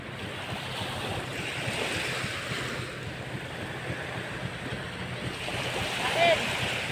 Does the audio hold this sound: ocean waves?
yes